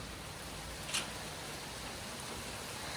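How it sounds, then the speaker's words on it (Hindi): Steady, dense hiss of heavy rain pouring down in Australia, continuous and broadband throughout with no voices. "बहुत तेज बारिश हो रही है,"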